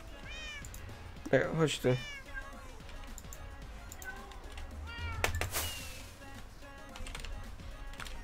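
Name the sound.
cat meowing in the video game Minecraft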